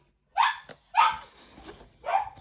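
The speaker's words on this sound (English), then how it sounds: "My dog's going crackers." A dog barks three times, loud and close, with short uneven gaps between the sharp yaps and no talk.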